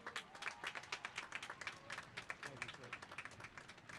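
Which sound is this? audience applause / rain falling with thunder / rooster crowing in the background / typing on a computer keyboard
audience applause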